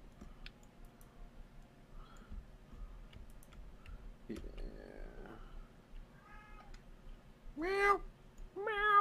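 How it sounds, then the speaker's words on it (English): Game cat meows during Trine 2 co-op play, a few short rising meows near the end, fairly close, over quiet clicking and background game sounds. "Shut up, cat."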